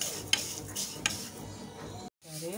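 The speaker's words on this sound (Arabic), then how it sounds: "دلوقتي حطينا الشعريه عشان تتحمر" Vermicelli fries in oil in a pot for Egyptian koshari, with a soft steady sizzle, a couple of light utensil clicks against the pot while it is stirred, then a brief silence.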